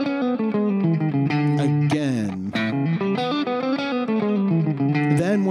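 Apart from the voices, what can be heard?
distorted electric guitar chromatic run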